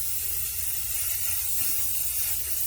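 Spray paint can hissing steadily as it coats clothespin carrots, a continuous close broadband spray with no pauses and no talking.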